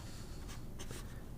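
A fountain pen with a number 6 steel broad nib scratches across paper in a few short, soft strokes, close and quiet, with no voices.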